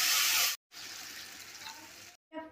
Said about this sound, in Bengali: আমি যেই জলটা তুলে রেখেছিলাম সেই জলটাটা কিন্তু আমি দিয়ে দিচ্ছি